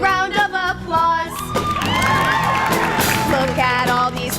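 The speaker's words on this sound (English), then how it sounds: "Y'all deserve a big round of applause." An audience at an awards gala cheers, whoops and shouts in a lively, close, continuous burst with some clapping mixed in, and higher-pitched excited voices ring out over the crowd.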